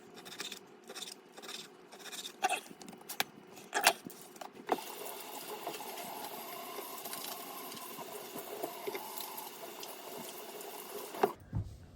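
Hands are washed under a kitchen tap: a few light clatters give way to a steady hiss of running water that lasts several seconds and then cuts off.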